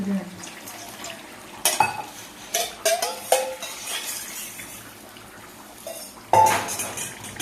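Fish curry with mango paste and a little water is stirred briefly in a pot, with a few scraping clinks of a spoon against metal amid quiet background sounds.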